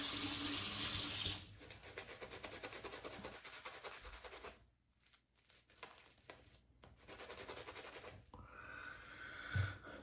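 A plastic squirt bottle sprays water onto a hand-tied wig in a grooming room, heard as a steady close hiss that breaks off into brief quieter bursts and rustling, with a short burst again near the end and no talking.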